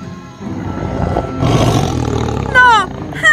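A tiger roars loudly in an animated fairy tale, a broad rumbling growl that swells and fills the scene, with short bright tones breaking in near the end.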